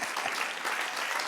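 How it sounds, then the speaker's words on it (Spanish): A church congregation breaks into applause during a Bible doctrine class, a brief, dense burst of many hands clapping at steady loudness. "De otro aplauso, Señor."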